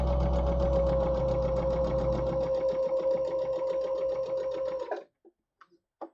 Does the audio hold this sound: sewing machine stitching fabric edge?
yes